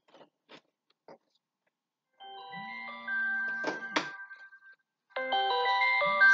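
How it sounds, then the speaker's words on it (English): A phone ringtone plays in bright melodic bursts, starting after a few soft clicks and returning louder near the end. "Sorry, my phone is ringing."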